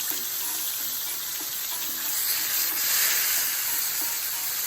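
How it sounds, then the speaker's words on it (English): Steady, loud sizzling of marinated chicken pieces browning in hot oil, a continuous bright crackle and hiss that swells slightly midway, with no talking. "You hear that sizzle?"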